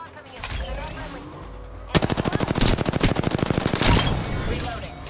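Rapid automatic gunfire in the Apex Legends shooter game, a sustained burst of evenly spaced shots after a brief pause, loud and close over a busy game soundscape.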